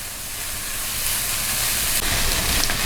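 Flour and vegetables frying in a pan for chicken box patties, a steady loud sizzling hiss that swells slightly and holds for a few seconds without talk.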